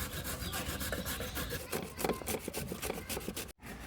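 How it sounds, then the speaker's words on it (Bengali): Taro is rubbed on a hand grater in quick, rhythmic scraping strokes, close and fairly loud, repeating steadily for several seconds before a brief pause. "এবার ঘষণিতে ঘষি নেবো। মানে গ্রেটারে এবার মা গ্রেট করে নেবে।"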